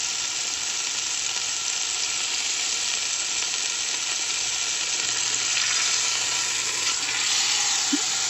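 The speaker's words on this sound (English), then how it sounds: "it's just to brown the outside. This is going to seal in the flavor of the beef." Beef roast searing in a hot pot for an oven roast, a loud, steady sizzle and spit of browning meat that runs throughout with no break, close up.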